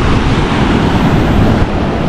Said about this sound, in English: And the waves here are stronger too.